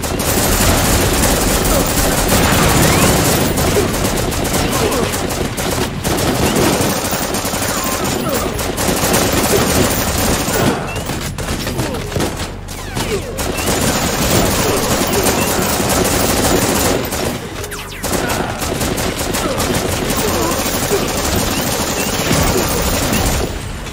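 Constant heavy gunfire in the first-person shooter 41 Hours, loud rapid automatic bursts running almost without pause, with a voice talking over the shooting.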